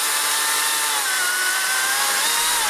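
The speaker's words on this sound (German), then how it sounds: "So, ich säge jetzt nochmal ein bisschen mit beiden Sägen." A cordless chainsaw runs steadily at high revs, biting through wood with a loud, continuous buzzing whine that holds constant throughout.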